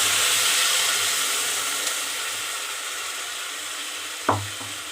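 Onion and ginger-garlic paste frying in hot oil while being stirred: a steady, close sizzle that fades slightly, with one sharp clank of the spoon against the pan near the end.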